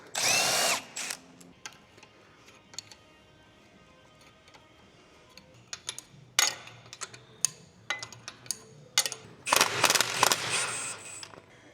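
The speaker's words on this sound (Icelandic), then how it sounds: "Bara að tjekka hvort að ég sé ekki búinn að losa alla boltana." A power drill loosens bolts on a vehicle: a loud burst of whirring at the start, then scattered clicks and clunks, with several more short drill bursts and a longer run of ratcheting near the end.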